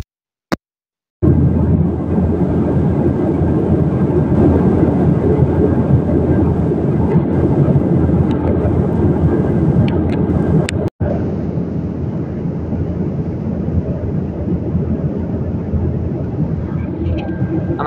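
A steady, loud roar of airplane cabin noise in flight fills the space after a brief silence, broken once by a short gap, with no clear talking.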